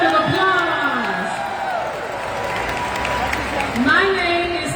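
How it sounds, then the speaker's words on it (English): Audience applauding and cheering at the 30th Annual Black Women's Expo, a steady wash of clapping with whoops rising over it, while a voice talks loudly on top throughout. "Give yourselves a big round of applause."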